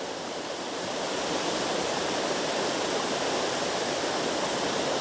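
Steady, loud roar of a large waterfall in Scotland, a dense unbroken rush of falling water with no other sounds.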